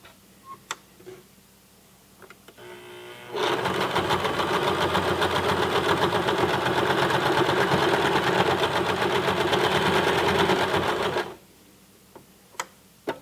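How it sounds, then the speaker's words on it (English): A sewing machine stitching through four layers of fleece runs in a steady, fast, rhythmic mechanical clatter for about eight seconds, loud and close, with soft clicks before and after it. "Let you hear how it sounds when it goes through 4 layers."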